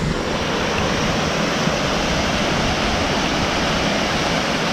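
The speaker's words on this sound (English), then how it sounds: "a feature that's everywhere: water and waterfalls." A loud, steady rush of a waterfall at Woody Bay roars without pause, close by and continuous.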